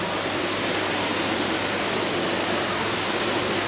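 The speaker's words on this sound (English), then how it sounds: "right now the hose is going in there to get some rusty water in there." A hose pours water into a drained fish tank, making a dense, steady rushing splash that stays even and loud throughout with no pauses or voices.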